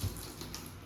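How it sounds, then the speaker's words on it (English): Hot water runs from a tap in a house being toured, a brief, faint, steady hiss of flowing water with no voices. "Hot water's also running."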